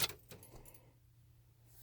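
Car keys jangle briefly and close by as the ignition of a 2006 Ram Hemi pickup is switched off, followed by a faint low hum in a quiet cab.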